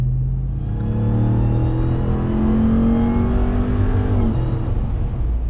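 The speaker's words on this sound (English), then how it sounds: "that gorgeous rumble of that 702 horsepower from that Hellcat SRT engine" A deep supercharged 702-horsepower Hellcat V8 in a 2021 Ram TRX rumbles steadily at idle, with a slight rise in revs before settling, heard close with no talking.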